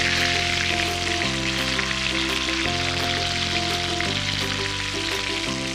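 Chicken frying in oil over a medium flame gives a steady, dense sizzle with a fine crackle throughout, loud and close, with no voices. A sustained tonal hum sits underneath.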